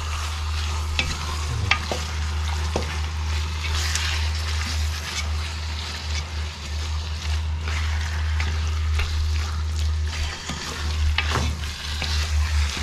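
Ingredients for chicken arroz caldo sauté in a pan with a constant close sizzle, overlaid by frequent scraping and clacking of a spoon stirring against the pan, with a low hum beneath and no talking.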